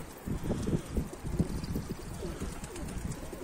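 Repeated low cooing from a Bango pigeon at a rooftop loft, a series of soft throaty pulses close by over faint outdoor wind, rising and falling for a few seconds.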